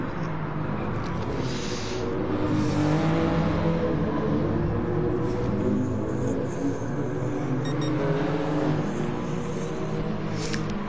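Race cars with a yellow and red machine out front run hard in a race, engines droning steadily with passing whirs at a distance and no voices over them.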